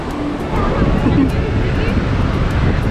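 Sea waves wash continuously onto Velas beach on the Konkan coast, mixed with wind buffeting and distant voices of people enjoying the shore.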